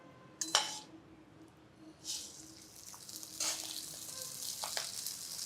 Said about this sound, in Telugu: మసాలా దినుసులు వేగంగానే ఈ బియ్యాన్ని ఇందులో పోసేసి వేయించుకోవాలి